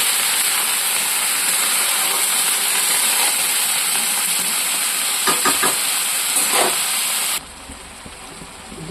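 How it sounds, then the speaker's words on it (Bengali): Mixed vegetables fry in a pan, giving off a steady, loud sizzling hiss with a few crackles, then the hiss cuts off sharply near the end. "এবার একটু ভাজবো।"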